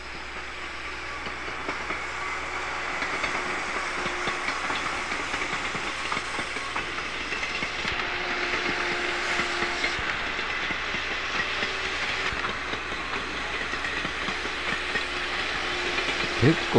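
A local train bound for Toyama at Kanazawa Station in winter rumbles steadily with a continuous mechanical hum and faint rhythmic clatter of wheels on rails, heard from inside or close by.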